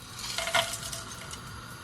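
Whole green and black cardamom, bay leaves and cinnamon pieces fry in hot oil for a mutton curry, giving a soft, steady sizzle with a brief clink of a utensil partway through, close and fairly quiet.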